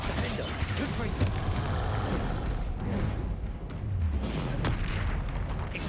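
Confringo blasting spells exploding during a Hogwarts Legacy fight, continuous booming blasts and rumble layered through a busy, noisy combat mix.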